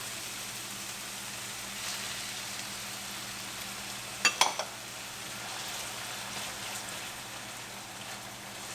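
Diced tomato frying in a pan with pepper for aloo gobi, a soft continuous sizzle with a brief cluster of clinks and scrapes from stirring partway through.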